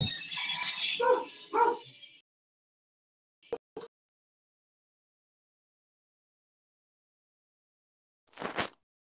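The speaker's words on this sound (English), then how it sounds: "There's dogs." Dogs barking in a few short, separate bursts spread over several seconds, fairly faint, with a brief stretch of voice or noise at the start.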